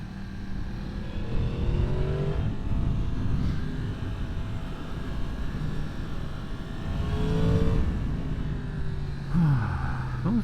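An Aprilia motorcycle engine drones steadily and loudly, rising and falling through revs with a couple of swooping pitch changes, heard continuously up close with wind noise mixed in.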